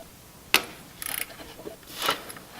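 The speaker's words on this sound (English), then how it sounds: "You have to double wrench it just to get a little more leverage." Two wrenches working a 10 mm bolt on an engine fan: a sharp metallic clack, then a short ratcheting burst and a final scraping crunch as the bolt breaks loose, close and fairly quiet.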